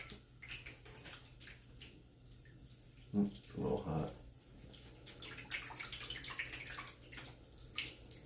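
Water runs steadily into a bathtub with a cat in it, a continuous splashing wash with a brief louder burst of splashing midway, while people talk over it.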